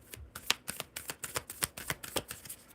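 Tarot cards being shuffled by hand in steady, rapid riffling bursts, close and crisp, with no talk over them.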